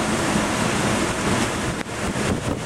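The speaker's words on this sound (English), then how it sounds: "on the Nassau side of the water, you see the waves picking up big time in the bay." Hurricane waves crash and churn in a bay at Colleran Park, Massapequa, NY, under heavy roaring wind that buffets the microphone in a loud, continuous wash with a brief dip near the end.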